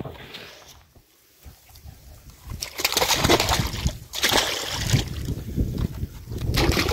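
Live carp of about 2–4 kg are tipped from the bank into deep water on Lake Boteni 1, a broad rushing splash and slosh that swells and continues with bursts of water, loud and close, with outdoor noise around it.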